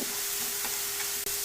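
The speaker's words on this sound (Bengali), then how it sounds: "আমি আবারও ভালো করে নাড়াচাড়া দিয়ে নিব।" A brief, steady sizzle with soft scraping comes as spinach curry with prawns is stirred in a pan; no one speaks.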